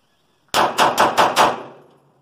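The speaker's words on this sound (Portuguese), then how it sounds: "nos disparos rápidos" Five rapid gunshots from a Taurus G3 Toro 9mm pistol ring out in quick succession, loud and sharp, followed by a brief fading echo.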